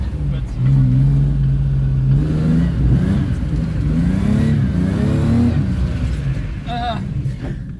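A car engine revs and climbs in pitch during a drift attempt, loud and close inside the cabin, with a person talking over the rising engine drone.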